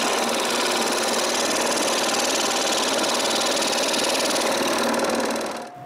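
A power tool cuts a notch in a wooden box part, a loud, close, continuous buzzing and rasping for about five seconds before winding down.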